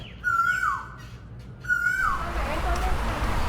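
A loud bird in Hua Hin, Thailand lets out two harsh, screeching calls, each a sharp descending squawk about a second apart, close and piercing, followed by quieter background hum and faint chirps.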